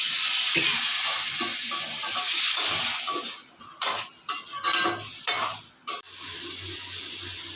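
Masala sautéing in oil in a pan for egg gravy, a bright steady sizzle broken by scraping stirs and clanks of a spoon against the pot, close and loud with no talk.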